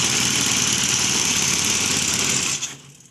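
A small lawn mower engine on a homemade go-kart built from bicycle parts idles with a loud, steady buzzing drone, then cuts off abruptly near the end, leaving near silence.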